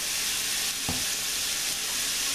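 Onion and carrot frying in a little oil in a pan give a steady, close, even sizzle with one brief stirring knock partway through.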